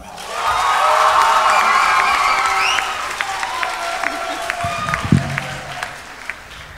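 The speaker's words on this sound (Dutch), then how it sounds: "Dus geef hem een groot applaus" A concert audience at The Voice of Almelo talent show applauds a singer, a dense wash of clapping that swells quickly, holds, then thins out while a few voices call out.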